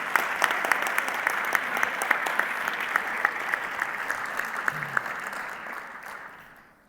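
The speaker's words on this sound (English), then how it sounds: "I think a round of applause for that." An audience in a school auditorium gives a sustained round of applause, a dense patter of many hands clapping with a few sharper individual claps standing out, fading gradually toward the end.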